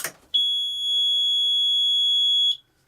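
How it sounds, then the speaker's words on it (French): Parking brake warning alarm on a CFMoto CF600 quad: one steady, loud electronic beep tone holding for about two seconds, then stopping, with no talk. "dès que le frein de parking n'est pas activé, il y a une alarme qui retentit comme ceci"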